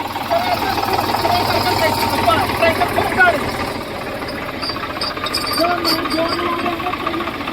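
Tractor engine at night, straining to pull out of mud after getting stuck, a continuous loud chugging rumble with knocking pulses close by, crickets faintly behind and voices talking over it.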